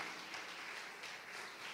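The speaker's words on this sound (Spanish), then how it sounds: "Démosle un aplauso al Señor" A church congregation applauds together, a steady, even wash of many hands clapping that stays fairly faint and unbroken throughout.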